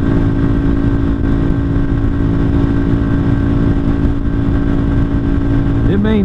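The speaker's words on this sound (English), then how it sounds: "really good acceleration for a 200cc." Lifan KPR 200 motorcycle, a 200cc six-speed, droning loudly and continuously as it accelerates, heard up close over wind rush with a voice talking over it.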